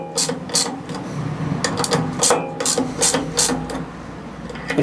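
A nut is tightened onto a bolt during rear spring mounting on an MGA 1600 restoration, producing a series of sharp metallic ratchet clicks and clanks in irregular bursts, close and fairly loud.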